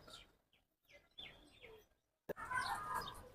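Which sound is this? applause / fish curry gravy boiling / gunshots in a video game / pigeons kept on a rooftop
pigeons kept on a rooftop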